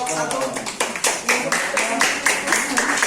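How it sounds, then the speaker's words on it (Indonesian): Students in a classroom clap for a presenting group during an Islamic religious education lesson, a steady, fairly loud patter of many hands, with a voice speaking over it. "kasih tepuk tangan dulu untuk kelompok satu."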